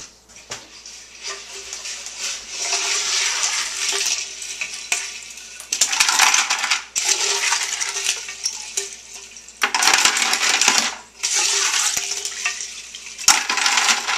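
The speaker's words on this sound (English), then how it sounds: "Then you add ice and salt to the machine." Ice and salt go into an ice cream machine for homemade cannabis ice cream, heard as bursts of loose rattling and clattering that pour in and stop, close and fairly loud, with brief pauses between.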